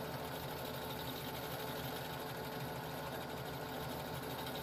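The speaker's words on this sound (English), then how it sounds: "Was the sewing machine too loud?" A sewing machine running continuously at an even speed, a steady mechanical whir and rapid ticking with no pauses.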